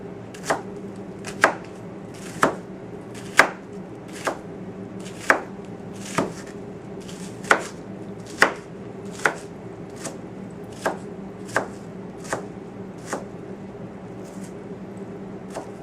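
A knife chopping an onion on a cutting board, about twenty crisp, evenly spaced taps close by, alone over a faint low hum.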